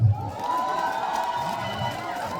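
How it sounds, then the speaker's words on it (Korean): Crowd applauding and cheering at an outdoor night-market concert in Taebaek, a steady wash of distant clapping and voices, fairly faint, with a brief louder burst at the start. "큰 박수 부탁드립니다"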